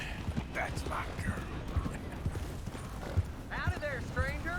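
Rhythmic clip-clop of horse hooves in Red Dead Redemption 2, steady even steps close by, with voices talking over the walking.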